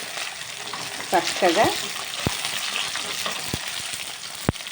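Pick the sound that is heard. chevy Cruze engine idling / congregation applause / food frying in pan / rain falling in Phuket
food frying in pan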